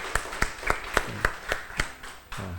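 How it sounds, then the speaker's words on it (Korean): A church congregation claps in welcome for a visiting guest, about eight even, evenly spaced claps landing together in a steady rhythm, fairly close and moderately loud, with a brief voice near the end. "우리 박수로 좀 환영합시다."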